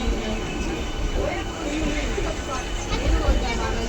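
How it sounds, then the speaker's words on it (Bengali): A passenger train pulling out of a station, a steady low rumble and rolling rail noise running throughout, heard from inside the carriage with a murmur of people in the background. "আমাদের ট্রেন ছাড়লো এখন"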